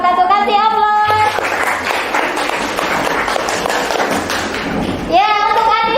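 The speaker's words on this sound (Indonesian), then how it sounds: "Kasih aplaus" Applause from a group in a classroom teaching practice session, a dense patter of clapping lasting about four seconds between stretches of voices and higher-pitched speech.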